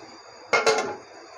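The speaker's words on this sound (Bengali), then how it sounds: "এখন আমি ঢাকনা দিয়ে দিলাম" A metal lid comes down on a cooking pot of spiced taki fish curry with a quick double clank, loud and close, then a faint rattle over quiet kitchen hum.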